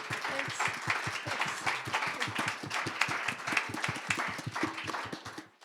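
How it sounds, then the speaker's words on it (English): Audience applause at an evening artist talk, in honour of the guest, Marlene Creates: a steady, dense crowd clapping that stays loud and even throughout, then cuts off abruptly at the end. "a round of applause for the lovely Marlene."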